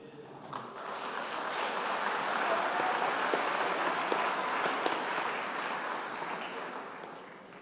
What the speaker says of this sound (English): So do feel free to give lots of cheers, claps, and so on to encourage your students as they process across the stage.